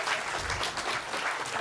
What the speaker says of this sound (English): Another round of applause for this amazing panel and discussion.